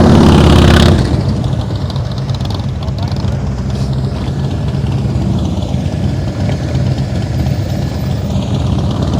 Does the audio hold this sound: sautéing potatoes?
no